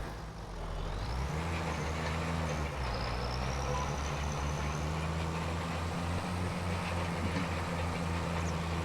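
A heavy tractor engine in Farming Simulator 25 drones steadily and close while rolling a field, its low rumble shifting pitch early on as it revs, then holding a constant hum.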